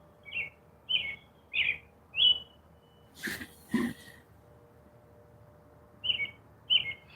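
A bird chirps outside at night in short, evenly spaced tweets, fairly faint and distant, with a pair of breathy snort-like noises in the middle and a quiet background between calls.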